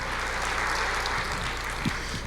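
A church congregation applauds, a dense, steady wash of clapping from many hands filling a large room, without pauses.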